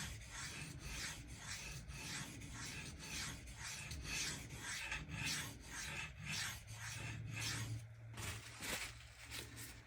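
A knife blade is stroked across a pdTools 650 grit diamond bonded stone in a steady rhythm of rasping, scraping passes, close and fairly quiet, repeating about once per second throughout.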